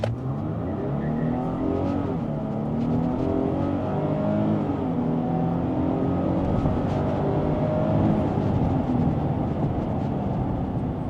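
Car accelerating hard from a standstill on a timed acceleration run with stability control switched on, a steady loud engine roar that rises and holds for the full run, with no talk over it.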